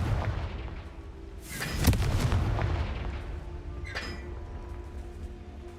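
Confringo explosive spell fired in Hogwarts Legacy, a heavy booming blast with crackling debris that swells and rolls away, followed by a second fainter burst, no talking.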